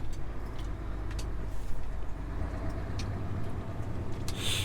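Cars rushing past on a Turkish highway, heard from inside a truck cab: a steady road rumble with a few brief whooshes of passing vehicles, fairly close and continuous.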